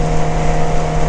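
Steady, loud engine drone of a motorcycle under way, with a constant hum and heavy wind rush filling the whole stretch and no speech.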